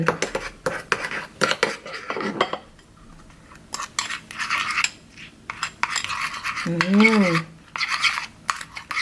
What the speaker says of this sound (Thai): แล้วก็ผสมให้เข้ากัน